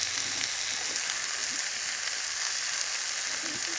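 Oil sizzles and crackles in a frying pan, a steady, close, hissing fry with no one talking.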